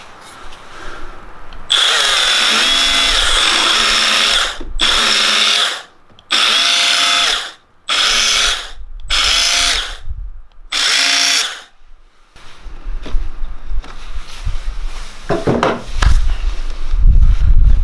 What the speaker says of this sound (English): If you don't have one of these Milwaukee band files for this project, go buy one.